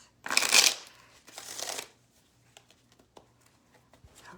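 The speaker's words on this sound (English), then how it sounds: "I like to look through them before I give them a little shuffle out" A deck of tarot cards is shuffled by hand in two brisk riffling bursts, close and crisp, followed by a few soft taps and card handling noises in a quiet room.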